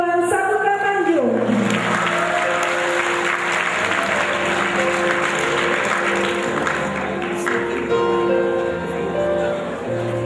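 A graduation crowd at an insurance and risk management college ceremony gives sustained, lively applause for about ten seconds, with cheering and a murmur of voices mixed in and music tones fading at the start.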